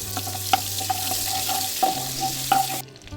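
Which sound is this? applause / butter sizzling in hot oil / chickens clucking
butter sizzling in hot oil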